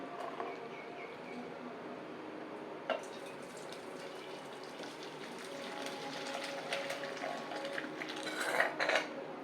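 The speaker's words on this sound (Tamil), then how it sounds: "இப்போ வந்து இதை நல்லா வடிகட்டி எடுத்துக்கணும்" Rasam is poured through a strainer into a metal vessel, giving a soft, continuous wash of liquid with faint clinks of utensil on metal and a sharper knock near the end, all fairly quiet and close.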